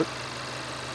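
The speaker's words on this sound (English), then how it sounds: "So the engine is shaking a little bit." An engine idles steadily in a car during a salvage auction walk-around, a low, continuous hum with a slight shudder. Squirrels or mice are suspected of living in the car, and the idle lasts under a second with no speech.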